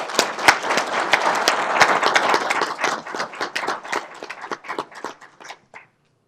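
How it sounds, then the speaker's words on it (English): An audience at a Yuma County board of supervisors meeting gives a round of applause, a dense burst of many clapping hands that gradually thins to scattered claps and stops. "So I'd like to show them our appreciation with a round of applause."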